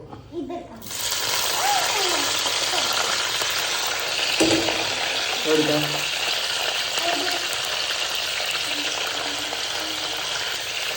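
Yellow and green capsicum, large onion and tomato sautéing in a pan, a steady sizzle starting abruptly and continuing with occasional stirring clatter, while a person talks over it.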